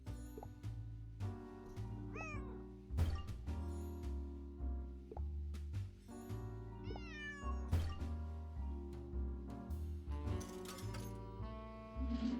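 A cat in the Nancy Drew game Lights, Camera, Curses! meows and yowls repeatedly, with rising, wavering cries that come in bursts over steady background music and sharp clunks.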